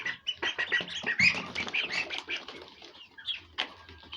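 Domestic Egyptian village ducks and chickens at feeding time, with busy overlapping quacks, clucks and wing flaps close by throughout, no talking.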